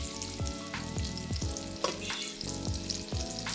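Onion frying in a pot as the base for potato soup, a sizzle under a repeating rhythmic scraping of stirring, quiet and with no voices.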